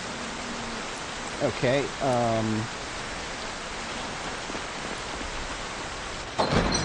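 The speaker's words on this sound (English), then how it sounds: "it's a little bit hard to hear myself think with all the rain out there." Constant hiss of heavy rain in the survival video game Project Zomboid, a steady broadband wash running throughout while someone speaks briefly over it.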